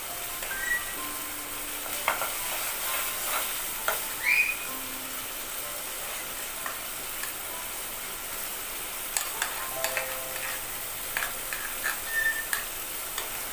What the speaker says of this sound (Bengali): আমার পেঁয়াজটা আর মশলাটা প্রায় ভাজা হয়ে গেছে ভালো মতো।